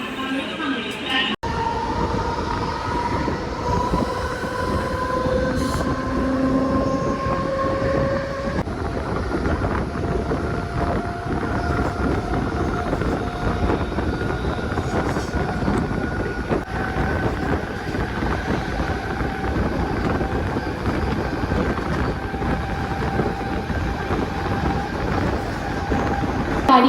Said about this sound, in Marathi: प्लॅटफॉर्म क्रमांक 3 वर आलेली लोकल 10:37 बदलापूरला जाणारी जलद लोकल आहे.